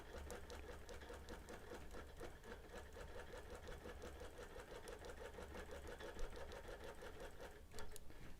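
A sewing machine stitching steadily during free-motion quilting, a fast, even mechanical chatter of the needle running continuously and close, with no talk over it.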